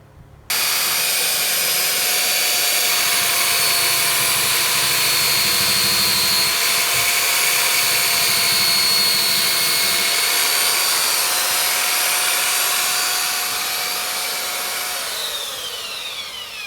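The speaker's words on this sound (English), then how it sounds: "these sides we're going to sand back a little bit so we get a nice perfect tight fit" A power sander grinds steadily against the sides of new kitchen cabinets, trimming them to fit a farm sink. The loud, continuous whine starts abruptly and runs for about sixteen seconds before tapering slightly toward the end.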